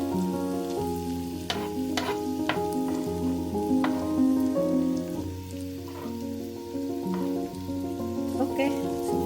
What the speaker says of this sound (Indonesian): Kemudian bawang bombay kita tumis